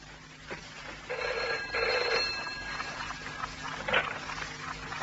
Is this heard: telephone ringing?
yes